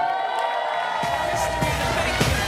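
A wedding crowd cheers and whoops for a performer, a loud, sustained roar of voices with scattered shouts and a faint musical tone underneath.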